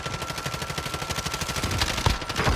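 Rapid automatic gunfire from Call of Duty Warzone, with evenly spaced shots in a fast, steady rhythm and a few heavier bursts near the end, loud and close.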